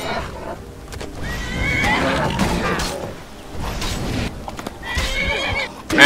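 A horse in Skyrim whinnies loudly and close amid clip-clopping hooves and scuffling combat noise, with a couple of sharp neighs rising out of the busy, continuous commotion.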